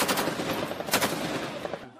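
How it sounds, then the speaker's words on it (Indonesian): Fighters shooting in Gaza produce a steady, dense rattle of automatic gunfire with sharper single cracks standing out, loud and continuous for the whole stretch. "saat menembaki tentara Israel tanpa henti"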